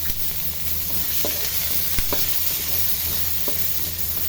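Young ginger and sliced onion frying in hot oil in a pan, a steady close sizzle with a few sharp clinks of stirring scattered through, no voices.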